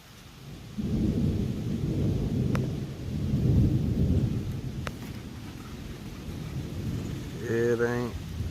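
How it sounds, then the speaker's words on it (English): Thunder rumbling outside during a lowcountry storm, with long low rolling peals heard from indoors at a moderate distance. A voice briefly sounds near the end. "I don't know if you're going to be able to hear the thunder outside."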